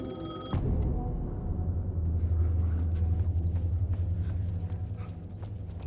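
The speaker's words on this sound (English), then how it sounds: "The payphone was ringing." Payphone ringing in the video game Alan Wake II, a brief electronic ring at the start that cuts off into a low droning ambience with faint mechanical clatter.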